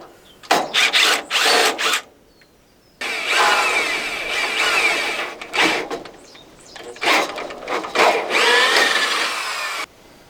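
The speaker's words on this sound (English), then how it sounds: "So I'm going to go ahead and get these drilled out" A power drill whirs loudly in several bursts, biting through self-drilling screws on a Mazda B2200 pickup, with short pauses between each run of grinding drilling.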